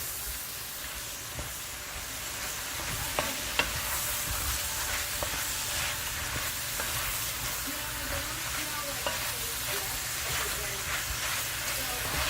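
Bell peppers fry in a pan for chicken cacciatore, a steady loud sizzle with occasional stirring clicks and scrapes throughout, no one speaking.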